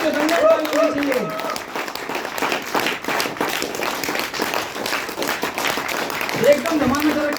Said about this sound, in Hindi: दमदार ताली होनी चाहिए।